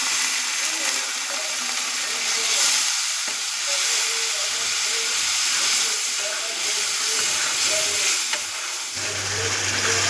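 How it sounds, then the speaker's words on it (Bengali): Masala with cumin powder and a splash of water sizzles and steams in a pan for a rohu fish curry, giving a loud, continuous hissing sizzle with faint stirring and a low hum entering near the end. "এর মধ্যে আমি 1 চামচ জিরে গুঁড়ো অ্যাড করে দিলাম ও একটু জল দিয়ে নাড়িয়ে নিলাম"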